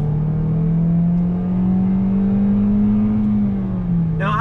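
A 2020 Toyota Corolla under hard acceleration from inside the cabin, the engine holding a loud, steady droning hum that climbs slightly then eases, with no talking over it.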